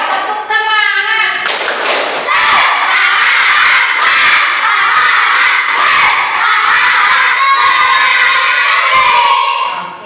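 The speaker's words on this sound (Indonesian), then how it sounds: "Tepuk semangat." A classroom of elementary schoolchildren loudly chanting and shouting together in a rhythmic clapping cheer, with repeated claps and thumps punctuating the energetic group voices.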